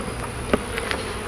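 Honey bees buzz at an open hive during an inspection, a soft steady drone with a few brief louder passes close by, no talking.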